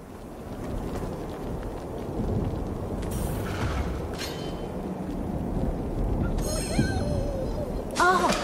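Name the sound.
storm with thunder in a video game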